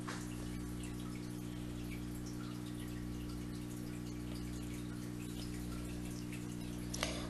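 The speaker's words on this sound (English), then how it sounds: "I'm also going to use I think it's a 3-quart pot, and I'm going to fill it with water" Tap water runs steadily into a 3-quart pot, a constant soft rush with a low hum underneath and no talking.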